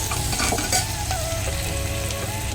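Chopped onions with salt and a few sugar grains sizzle loudly in a pan for a mutton curry, a constant close hiss broken by repeated scraping and stirring of a spatula.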